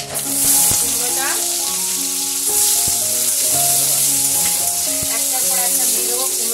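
Pumpkin and other vegetables sizzle in hot oil with crackling mustard seeds and dried chilli, a constant frying hiss with occasional stirring knocks beneath a melodic background tune.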